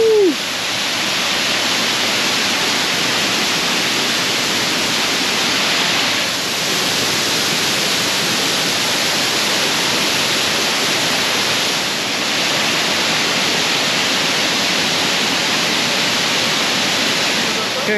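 Nebraska's highest waterfall roars as a steady, loud, broadband rush of falling water close by, filling the whole stretch with little variation and no clear talk over it.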